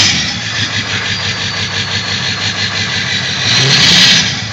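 An old Ford work truck engine runs loud and close, its rough idle pulsing steadily after starting, with a slight rise in revs near the end.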